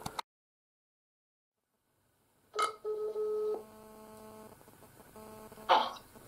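A telephone call being placed: after a silent stretch, short electronic dialing tones and a steady ringing tone sound close by on the line, followed by a brief burst of noise.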